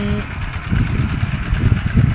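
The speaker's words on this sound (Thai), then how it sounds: "ต้องมาเอารถไถเดินตาม" A walk-behind tractor works a rice field being prepared for second-round sowing, its engine giving a steady, fairly loud low rumble with uneven chugging throughout.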